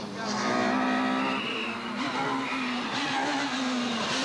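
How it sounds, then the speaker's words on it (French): A two-wheel-drive rally car is racing, its engine droning loudly and steadily with shifting pitch, tyre noise and crowd-like wash mixed in, continuous throughout. "Elle conduit donc cette année la voiture championne du monde en titre des rallyes en 2 roues motrices"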